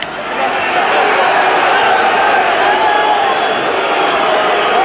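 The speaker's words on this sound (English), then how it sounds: "the Free State crowd now showing their total displeasure with the referee" A large rugby crowd at the 1994 Currie Cup Final between Free State and Transvaal roars in steady, loud disapproval of the referee, a continuous wall of noise with no breaks.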